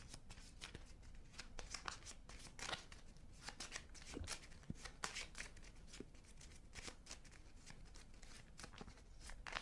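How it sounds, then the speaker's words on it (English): A deck of cards for a G.I. Joe deck-building board game is shuffled at the table, a continuous rapid riffle of crisp card flutters and snaps, close and fairly quiet, with no talk over it. "Shuffle the deck."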